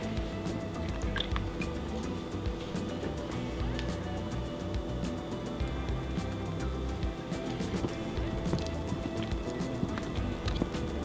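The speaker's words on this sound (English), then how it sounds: "Let's mix the wet ingredients." Wet ingredients for Cajun tempeh being mixed, heard as a rapid, steady run of squishy, clicking stirs and drips close by, continuous throughout with no talk.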